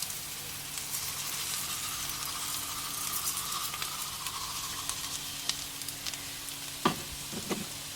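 Risoni and onion sizzle softly in a pan while being stirred, a steady low frying crackle with a few sharper scrapes and clinks near the end.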